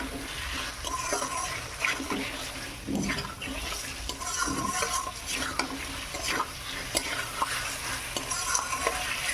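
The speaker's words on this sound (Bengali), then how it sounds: "ডিম আলু সব মশলার সঙ্গে ভালোভাবে কষিয়ে নিয়েছি।" Egg and potatoes stir-fried with spices in a pan sizzle continuously while a spatula scrapes and clatters against the pan in repeated strokes, up close and fairly loud.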